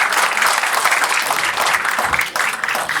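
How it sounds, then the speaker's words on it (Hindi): Audience at a stand-up poetry show clapping for themselves, a loud, dense burst of applause that fills the room and stays steady before thinning slightly near the end. "एक बार तालियां बजा दो यार अपने लिए"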